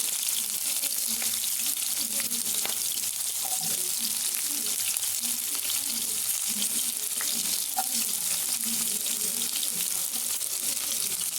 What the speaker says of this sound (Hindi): अब मैं इसे बनने दूँगी थोड़ी देर के लिए।